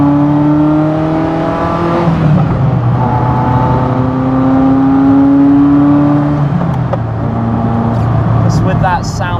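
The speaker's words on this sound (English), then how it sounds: "driving down roads like this in a Ferrari F40," A Ferrari F40 engine drones loudly while driving on an open road, its pitch rising and falling through gear changes as the car accelerates, with a constant heavy roar throughout.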